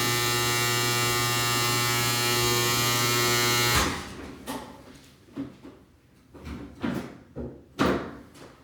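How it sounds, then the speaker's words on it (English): A hair dryer hums with a loud, steady electric buzz for several seconds, then cuts off, leaving scattered clunks and knocks. "I wish I had a dryer that didn't buzz so loud."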